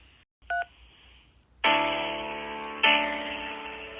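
A telephone keypad beeps once with a short tone for the number 3, followed by longer ringing-style tones that play twice, clear and alone.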